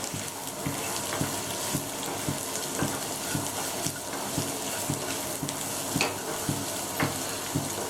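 Carrots frying in hot ghee in a pan as fried rice begins, a steady sizzle broken by regular scraping knocks of a spatula stirring them, close and fairly loud with no talk.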